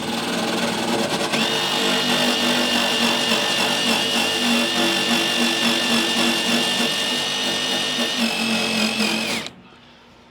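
A wire wheel brush grinds steadily against corroded aluminum boat rivets, a loud continuous whirring scrape that holds for about nine seconds before cutting off abruptly.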